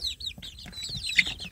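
Free-range village chicks cluck and chirp in a busy cluster, high bright peeps overlapping continuously at close range with no talking.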